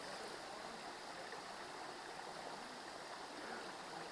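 A small waterfall stream at Aare Falls near Chennai flows with a steady, soft, even rush of water, continuous and unbroken throughout.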